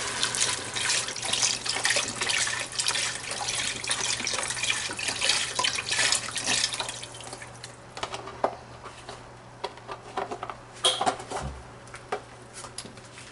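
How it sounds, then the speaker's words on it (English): Boxed 32-ounce broth poured into a cooking pot, a steady splashing gurgle of liquid for several seconds that thins into intermittent glugs, drips and light clinks near the end. "let's get this broth in."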